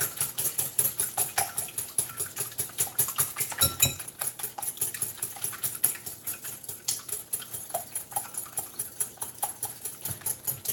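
Eggs beaten briskly in a bowl for a German pancake, a fast rhythmic tapping and clatter of utensil against the bowl repeating steadily and close up, with no voices.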